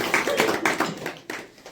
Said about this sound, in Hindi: एक अच्छा ताली के साथ प्रभु के लिए लोग बजाएं।